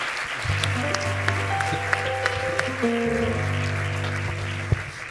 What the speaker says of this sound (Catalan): jo crec que un aplaudiment també s'ha guanyat